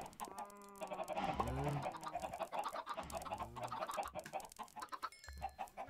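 Chickens cluck in the Minecraft video game, faint and close-sounding, with repeated short clucks and squawks scattered throughout.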